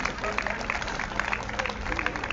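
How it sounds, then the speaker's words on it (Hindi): Audience at a Hindi comedy poetry show clapping to welcome a visiting MLA, a steady patter of many hands under ongoing crowd noise. "आइए आप जोरदार ताली से माननीय विधायक जी का स्वागत करें"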